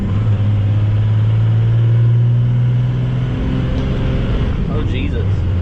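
A 12 valve Cummins diesel engine with a VGT turbo runs loud and close, a steady heavy rumble that builds slightly then settles, while voices talk over it.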